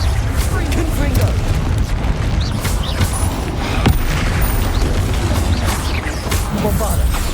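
A Confringo blasting spell erupts in a Hogwarts Legacy troll fight, with booming blasts and crackling bursts over a dense, loud background of combat noise.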